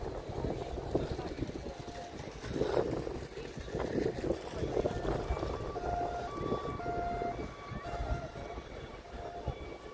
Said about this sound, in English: And I can hear another siren.